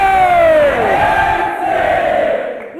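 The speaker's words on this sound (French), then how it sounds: "qu'on applaudit très fort et en faisant autant de maximum du bruit" Audience at a live show cheering and shouting loudly, a continuous roar of voices with rising and falling yells that slowly fades toward the end.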